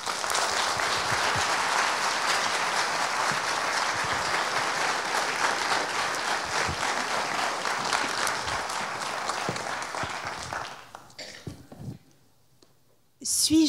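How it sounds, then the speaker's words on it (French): Sustained audience applause for Anaëlle at an evening talk event, dense and loud for about ten seconds before thinning out, followed by a brief pause and a few faint sounds near the end. "Merci d'applaudir très fort Anaëlle."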